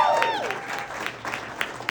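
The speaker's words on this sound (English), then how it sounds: "I hope you guys are cheering for yourselves right now." An election night crowd applauds and cheers during a candidate's speech, with a sharp whistle at the start, then a steady wash of clapping and scattered shouts that gradually thins out.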